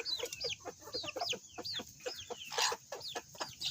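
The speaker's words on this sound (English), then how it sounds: "What'd y'all think about Norris crowing" Two roosters sharing one coop give short, hoarse crows and clucks in a quick string of rising and falling calls, close by, with a busy chorus of fowl and no talking.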